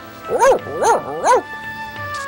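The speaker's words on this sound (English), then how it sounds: "And this is his dog, Philemon" A dog in a 1989 film gives three quick, evenly spaced whiny barks or yips. They are close and clear, followed by a quieter tail of sound.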